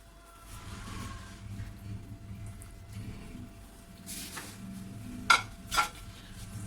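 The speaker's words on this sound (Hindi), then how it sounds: "और इसे अच्छी तरह से मिक्स कर लेंगे" One kilogram of raw chicken is stirred into marinade in a pot for white chicken korma, giving a soft, wet churning sound, followed by two sharp clinks of a spoon on the metal rim.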